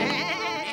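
A sheep bleats in a short, wavering, nasal cry in a children's animated cartoon, close and loud, heard alone.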